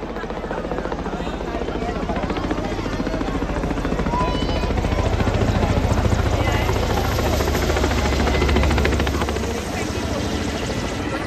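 A helicopter roars steadily overhead at an Indian Navy Day celebration, its thumping rotor drone loud and close throughout, swelling slightly in the middle before easing off, with faint crowd voices beneath.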